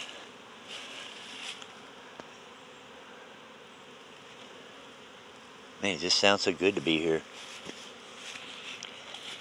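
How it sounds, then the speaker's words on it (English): Bees hum in a steady, faint drone around an open hive in February at Fairplay, Maryland, with someone speaking briefly in the middle over the buzz. "Hear the bees buzzing."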